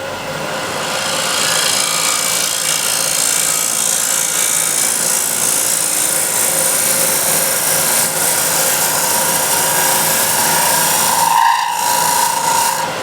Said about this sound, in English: that vibration, high pitching sound, was I was pushing just a little bit too hard on the side wall here